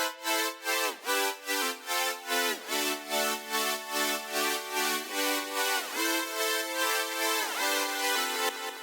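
A bright synth part in a verse of a track is pumped by LFO modulation, its sustained chords swelling and dipping in a fast, regular rhythmic pulse, playing alone and loud.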